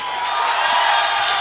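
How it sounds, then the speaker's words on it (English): Audience applause from a large college fest crowd at Kritanj 2K22, Narula Institute of Technology, a steady broadband wash of clapping and crowd noise that fills the whole moment without pause. "Can we have a huge round of applause for him?"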